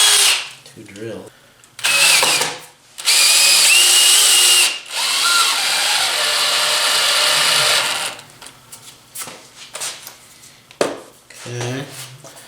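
A power drill boring holes in sheet metal while a hammer form for a patch panel is finished, several loud sustained whining bursts of a few seconds each, separated by pauses with handling clatter.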